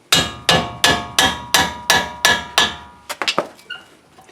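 A mallet strikes a brake bracket on a Chevy truck, eight evenly spaced loud metallic whacks about half a second apart, followed by a few quicker, lighter knocks and clatter.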